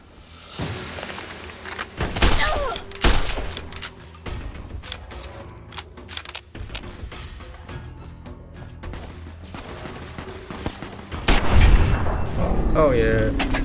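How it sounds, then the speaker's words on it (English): Gunfire from the video game Fallout: New Vegas, with repeated sharp shots and bursts, some loud and close, spaced irregularly over a busy game soundscape. "Shooting some escaped convicts."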